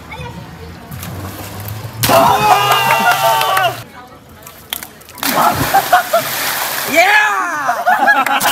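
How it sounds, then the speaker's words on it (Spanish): After a double front flip, a person lands in a swimming pool with a loud splash, and water sloshes and churns. People talk and shout in the background throughout. "Estábamos aquí tranquilamente en la piscina y de repente nos hemos puesto a coger a Mar, a balancearle y está haciendo doble front"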